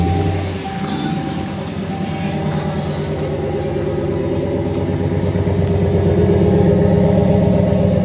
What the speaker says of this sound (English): I'll start her up to get the exhaust so you can hear the exhaust that I put on it